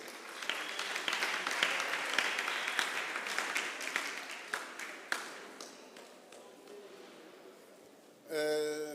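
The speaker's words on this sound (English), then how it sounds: "Round of applause, please." Applause from a seminar audience fills the room for about eight seconds, dense clapping that gradually thins out and fades, followed by a brief tonal voice at the very end.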